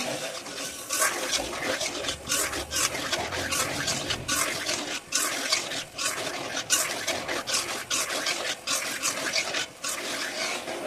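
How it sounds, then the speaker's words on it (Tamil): Sago (javvarisi) halwa being stirred continuously in a pan, a steady wet scraping and sloshing with rhythmic strokes, close and fairly loud throughout with no talk. "கைவிடாமல் கிண்டிக்கிட்டே இருங்க"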